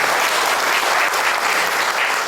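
Congregation at a Presbyterian men's mission prayer breakfast clapping to welcome visiting members from Seoul, loud, close, and sustained applause from many people, even in intensity with no speech over it.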